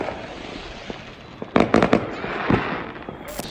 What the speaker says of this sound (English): There's fireworks everywhere.